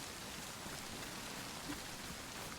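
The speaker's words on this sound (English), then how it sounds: "The rain is unfortunate." Steady rain in the survival game DayZ falls as an even, unbroken hiss of drops with no break across the stretch, at a moderate level and with no voices over it.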